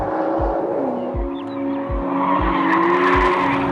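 Nissan GT-R Black Edition with 550 horsepower and all-wheel drive taken too fast through a corner, its tires squealing in a loud sustained screech over steady engine drone, with repeated low thumps.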